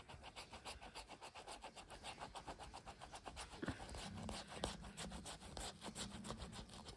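A scratch-off window on a Danish 2022 Christmas calendar is scrubbed in quick, steady rasping strokes that carry on for several seconds, faint and close with no talk.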